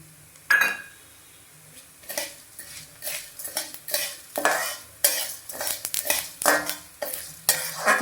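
Cumin seeds frying in oil for a moringa chutney powder, with a spoon stirring and scraping the pan in repeated bursts over a soft sizzle, close up and with no talk.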